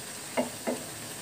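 Bottle gourd pieces are stirred with lentils in a cooking pan, giving two short, soft scraping strokes over a quiet background hiss.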